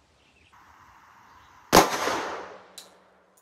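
A Glock 20 with a 6-inch barrel fires one 10mm PREX 140-grain all-copper round. It is a single sharp, loud report with a ringing decay, followed by a faint metallic clink.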